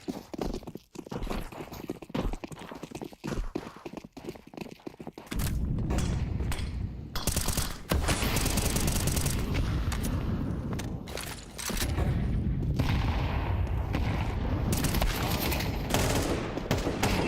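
Rapid bursts of automatic rifle fire spray through a smoke grenade during a Counter-Strike match, loud dense volleys at first, then sustained heavy gunfire and crunchy impacts continuing close up.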